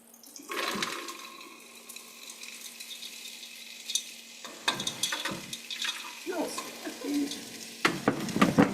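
Frozen corn is stirred in a cooking pot, with scraping, clattering strokes and a wet sizzle coming in irregular bursts while people talk quietly nearby.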